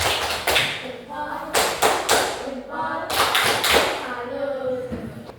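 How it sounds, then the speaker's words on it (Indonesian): A primary-school class performs a tepuk salut patterned clap for a presenting group, sharp unison claps and thumps in a rhythmic sequence, with children's voices chanting along between the beats. "bisa beri tepuk salut kepada kelompok 2"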